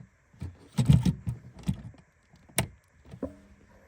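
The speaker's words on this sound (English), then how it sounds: "You should hear a click like so." A network cable's plug snaps into the large port of a Verizon FiOS router with a short, sharp click, set among softer handling taps and rustles nearby.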